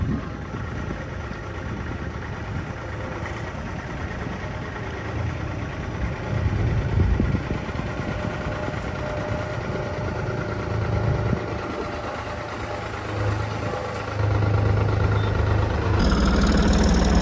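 Two tractors idle on a farm during a sugarcane harvest, their engines giving a steady, loud, continuous rumble that grows a bit heavier near the end.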